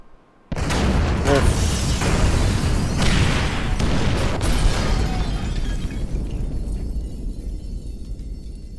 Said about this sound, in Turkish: Trigger the fire bombs, Frank.